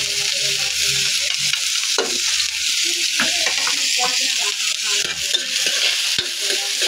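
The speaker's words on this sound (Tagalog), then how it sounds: "gisa na natin yung bawang, sibuyas at luya" Garlic, onion and ginger sizzle and fry in a pan, giving a steady, loud hiss, while a spatula scrapes now and then and a few faint knocks sound underneath.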